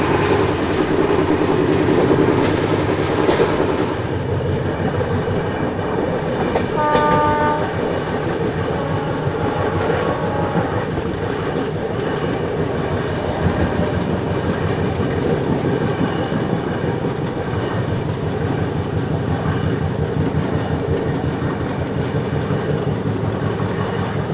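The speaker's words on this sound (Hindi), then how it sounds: "तो ये जो भी ट्रेन क्रॉस हुई ना, ये थी दूध दुरंतो एक्सप्रेस।" The Doodh Duronto Express milk train, an Indian Railways service, rushes past close by with a loud continuous rumble and rattling wagons, and a brief horn blast sounds early on.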